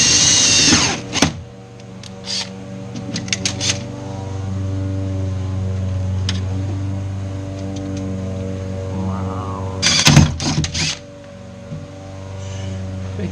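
A power drill whirs in bursts and steady runs during work on a car body, with a constant tonal hum underneath and some clattering handling noises. The sound is close.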